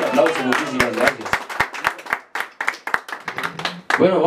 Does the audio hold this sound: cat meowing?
no